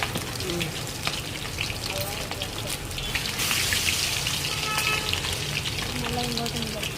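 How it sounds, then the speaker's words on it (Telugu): Chicken leg pieces are dropped one at a time into hot oil and fry with a loud, close, continuous crackling sizzle that swells midway through. "ఇప్పుడు నూనె వేడయ్యాక ఒక్కొక్కటిగా లెగ్ పీసులు అన్నీ వేసుకోవాలి నూనెలో"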